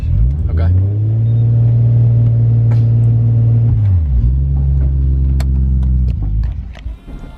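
A drift car engine on a race track holds a loud, steady drone, drops in pitch for a shift and settles again, then fades out near the end.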